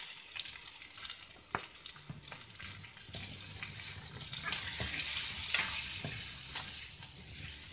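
Spices with chili flakes and turmeric powder cooking in oil make a steady close sizzle that swells louder midway, broken by sharp clicks and scrapes from stirring.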